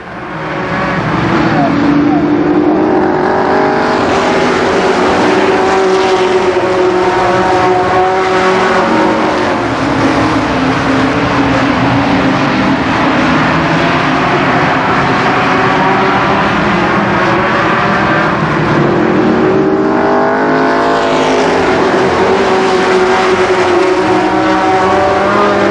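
Stock cars race at Columbus Motor Speedway in 1990, a loud continuous roar of engines rising and falling as the pack passes, with a public-address voice faintly underneath.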